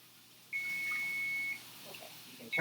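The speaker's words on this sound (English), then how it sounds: "Okay, you can turn off the timer there." A kitchen timer beeps during cooking of scallops, a single sustained high-pitched electronic tone lasting about a second, followed by the start of another beep, faint over quiet kitchen background.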